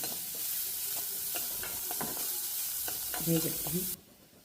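Chopped small onions sizzle and fry in a pan while a utensil stirs them with scattered scraping clicks, the frying steady and close before cutting off near the end.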